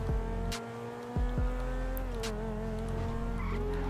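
An engine revs and climbs in pitch as a car accelerates in GTA 5, with brief gear-shift dips and a faint tire squeal.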